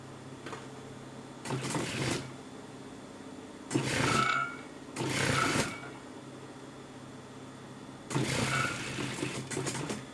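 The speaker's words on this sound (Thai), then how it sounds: "เสร็จแล้วเรามาเย็บตะเข็บข้างนะคะ" An industrial-style sewing machine stitches the side seam of a garment in three separate bursts of about one to two seconds each, a close, rattling whir with brief pauses between runs.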